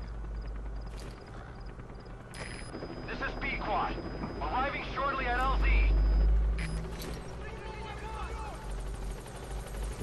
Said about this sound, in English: Might notice the helicopter.